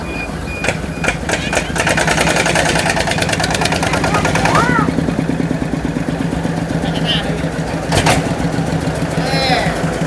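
Vehicle engine idling with its throttle set to keep it from stalling, a steady close rumble with rhythmic clatter, intermittent beeps and clicks, while someone talks over it.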